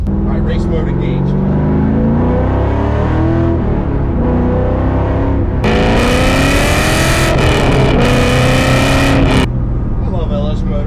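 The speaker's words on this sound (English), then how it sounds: "I love LS motors. It just runs so good. I didn't even have to rev it out, and it makes good power and good sounds." A 450 hp LS V8-swapped BMW E36 M3 in race mode revs loudly and close, its deep engine rising and falling through several pulls, with a sharper high-rpm burst midway and speech over it.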